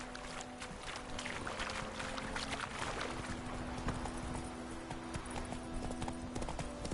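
Horse hooves clip-clop at a steady trot in The Witcher 3, a continuous even rhythm over a soft outdoor ambience with a faint low hum.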